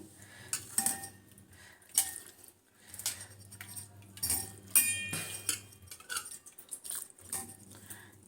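A utensil scrapes and clinks against a pot and bowl as leftover rice soaked in starchy water is served out, with soft, irregular taps and clatters at close range.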